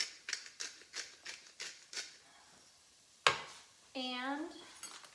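A spoon stirring lentil soup knocks and scrapes against the pot in a steady series of light, close taps, followed by one sharper clink and a brief squeak.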